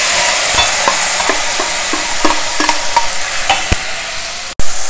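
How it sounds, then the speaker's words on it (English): Chopped greens hitting hot oil with browned dal, dry red chilli and hing in a pan, sizzling loudly and steadily while a spoon scrapes and taps at a roughly regular rhythm, close up, with no talking. "the dal is browned, add in this chopped greens to it."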